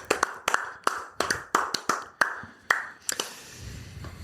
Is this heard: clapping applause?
yes